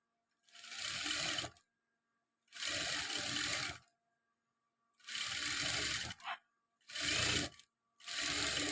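A sewing machine stitches a chudidar sleeve into the armhole in five distinct bursts of whirring, separated by short pauses, fairly close and clear.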